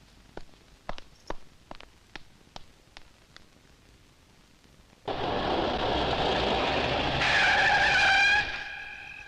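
A car pulls out of a garage, its engine roaring up loudly with a squeal of tires after a series of sharp knocks or footsteps.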